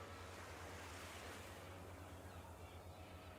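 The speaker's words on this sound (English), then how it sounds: "The sound of the waves?" Steady ocean surf washing in continuously at low volume in the video game Rot In Paradise, a soft even roar with a faint breezy hiss and no other sounds.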